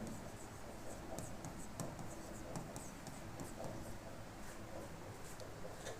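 Faint scratchy strokes of writing on a board during a grammar lesson, soft and intermittent beneath a constant room hiss.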